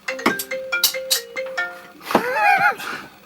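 A phone ringtone plays as a short electronic melody of bright repeated tones, with a faulty Laney CP10 wedge monitor said to have a built-in phone, followed by a sweeping chirp; no talk.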